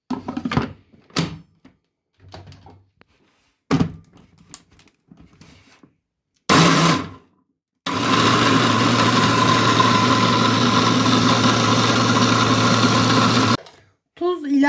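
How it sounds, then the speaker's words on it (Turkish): A kitchen food processor grinds garlic cloves with rock salt, its motor whirring steadily for several seconds after bursts of talk and clunks, then cutting off. "Üzerine bir tatlı kaşığı kaya tuzu verip robotta iyice ufalana kadar ufalanana kadar çekiyorum."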